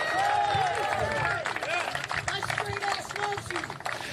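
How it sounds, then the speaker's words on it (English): A crowd at the America First Unity Rally during the RNC applauds and cheers, the clapping mixed with voices and shouts, fairly loud at first and then continuing more unevenly. "Round of applause for Kenneth."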